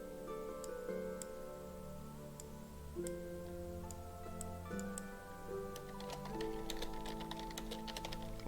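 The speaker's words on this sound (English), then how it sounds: "Also enjoy my keyboard sounds as well." Typing on a computer keyboard, a quiet steady patter of clicks under a low, faint background hum.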